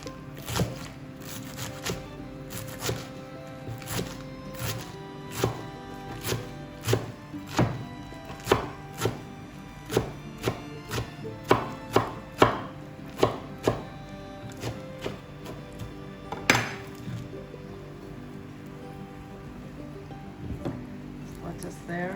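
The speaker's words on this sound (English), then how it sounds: "Next, we have some other vegetables we're going to cut up to put in. Some lettuce," Lettuce being chopped into small pieces for a Vietnamese beef and green mango salad: a run of crisp knife strikes on a board, irregular but frequent, close and moderately loud, with a few quieter gaps between bursts.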